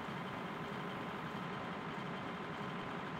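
Massey Ferguson tractor engine idling in Farming Simulator 2013 near a canola field: a steady, low, even rumble held throughout, fairly quiet with no speech.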